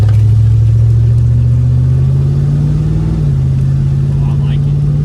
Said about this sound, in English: We're gonna take it down the road, make sure everything's good, give it a shakedown